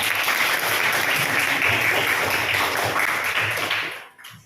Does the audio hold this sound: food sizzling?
no